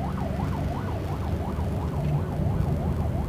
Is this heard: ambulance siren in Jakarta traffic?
yes